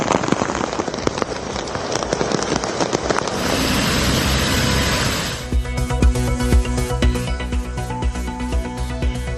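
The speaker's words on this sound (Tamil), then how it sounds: "மகாராஷ்டிர மாநிலத்தில் தொடரும் கனமழை." Heavy monsoon rain in Maharashtra, around Mumbai, pours as a dense, loud, steady hiss for several seconds before music takes over.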